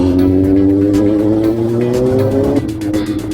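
A motorcycle engine drones steadily up close, its pitch rising slightly and then dropping as it shifts, with road and wind noise throughout.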